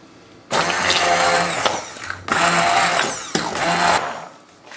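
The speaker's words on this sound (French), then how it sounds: "On va mixer." Kitchen blender puréeing a cooked pear and endive velouté in three loud, whirring bursts separated by brief pauses, close by, with no speech.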